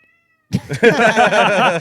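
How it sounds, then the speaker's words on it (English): A cat named Midas meows repeatedly and loudly, a series of drawn-out, wavering cries following a brief near-silent start, heard on its own without talk. "He's meowing so much, but not near the mics."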